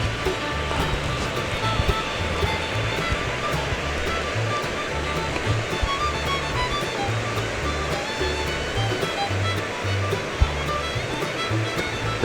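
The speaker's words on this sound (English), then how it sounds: "It's a narrow, not heavy flow, but constant flow waterfall." Morgan Falls pours a narrow but constant stream of water down over rock, making a steady, unbroken rushing roar that stays loud and even throughout with no voices.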